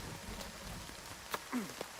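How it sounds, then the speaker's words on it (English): Hail pattering down in the survival game Nightingale, a soft steady patter of scattered small impacts with a few sharper hits and a faint voice-like murmur underneath. "Oh, I'm getting hit by hail. It's doing damage to me."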